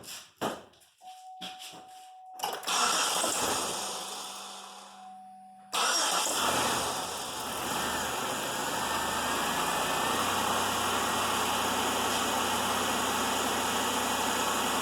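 Pontiac Grand Prix six-cylinder engine with a dead misfire cranking in short bursts, then catching and starting abruptly before settling into a steady close idle.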